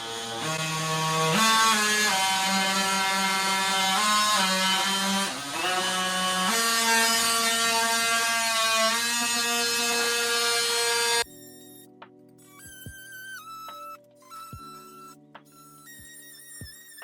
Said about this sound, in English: I'm just gonna kind of score it with this oscillating tool, multi-tool, and then take a hammer to it